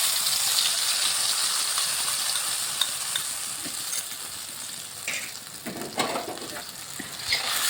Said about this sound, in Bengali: এই মশলাটাকে ভালো করে ভাজা ভাজা করে নিচ্ছি।